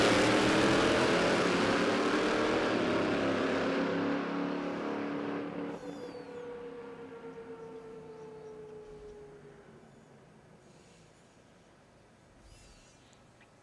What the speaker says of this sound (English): Just launched, blew the tyres off it, just almost skipped into the air.